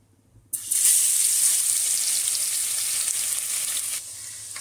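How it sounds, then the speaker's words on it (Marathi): Garlic dropped into hot oil in a pot, cooked village-style for a spicy Maharashtrian crab curry, bursts into a loud, steady hiss of sizzling that holds for several seconds and eases slightly near the end. "पहिल्यांदा तर एका टोपामध्ये तेल गरम करत ठेवलेलं आहे। यात आता आपण लसूण घालून घेऊ।"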